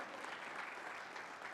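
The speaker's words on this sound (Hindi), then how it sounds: "देखो तालियां कमजोर मत करो दोस्तों" An audience at a Ramayana festival stage event claps in a dense, steady round of applause, heard from within the crowd at an even level.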